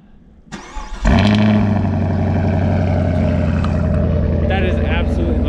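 A 2022 Chevy Camaro SS with factory exhaust cold-starts: a brief starter whir, then the V8 catches with a loud bark and settles into a deep, rumbling high idle that continues steadily, close and strong.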